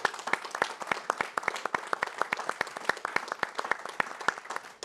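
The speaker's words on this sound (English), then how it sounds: "if we could just have a short round of applause for Shelley" A small audience at a company half-year results presentation gives a short, modest round of applause, with individual claps distinct and fairly quiet, steady throughout with no talk.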